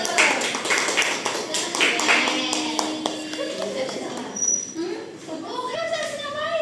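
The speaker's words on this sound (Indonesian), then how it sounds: "Kasih kita tepuk tangan" Young pupils in a classroom clap for a classmate, a scattered, uneven burst of hand claps that tapers off while children's voices and a teacher talk over it.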